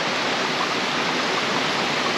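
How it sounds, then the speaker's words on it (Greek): The Achla river on Andros island rushes past in a dense, steady roar of flowing water, loud and close with no pauses and no voices. "Ο ποταμός που βλέπετε είναι ο ποταμός Άχλα"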